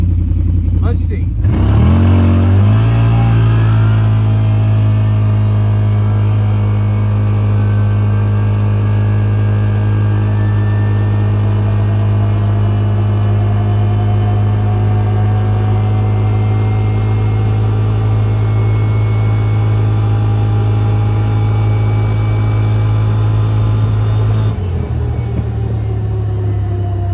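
A CFMOTO vehicle with a tuned clutch revs up on a speed run, its engine note climbing steadily and droning loud and close for over twenty seconds before cutting off near the end, with a voice talking over it.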